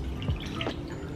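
Tea and raspberry lemonade being poured into a cup: a short liquid gurgle and splash with a rising pitch, close and fairly quiet over steady room noise.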